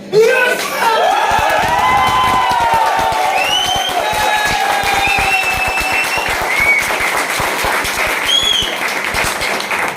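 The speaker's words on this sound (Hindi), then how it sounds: "जब हम ताली बजाते हैं तो हमारे शरीर में ऊर्जा पैदा होता है" An audience at a counseling branch event in Lajpat Nagar claps loudly and steadily for about ten seconds, dense and close, with cheering voices and talk mixed in over the applause.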